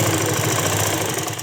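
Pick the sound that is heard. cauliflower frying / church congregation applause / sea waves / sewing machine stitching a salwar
sewing machine stitching a salwar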